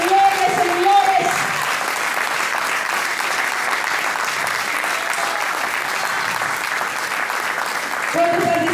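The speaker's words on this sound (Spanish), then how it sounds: "Denle un fuerte aplauso al Rey de Reyes y Señor de Señores" Congregation at a church service giving a loud, sustained round of applause, dense clapping from a large crowd filling the room, with a voice speaking briefly at the start and end.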